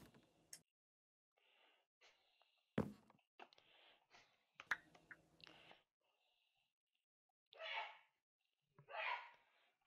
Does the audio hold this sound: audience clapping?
no